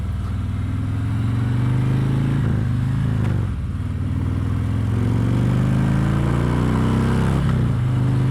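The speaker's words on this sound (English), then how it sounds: "it's a very loud noise that doesn't really go away with speed or power, because a lot of it seems to be the intake, so it's extremely deep" Harley-Davidson Electra Glide motorcycle engine while riding, a loud, deep continuous rumble and intake roar close up, rising and falling slightly with throttle over steady wind noise.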